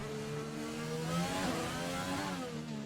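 Formula 1 race car engine in the F1 2020 game at the Singapore street circuit, a steady high-pitched whine rising in pitch as it accelerates at full throttle, loud and continuous with no talk.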